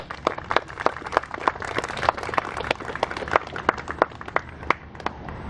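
Sparse audience applause at a rally for Myanmar, a thin scattering of distinct, fairly evenly spaced claps rather than a full ovation, moderately near and continuing steadily.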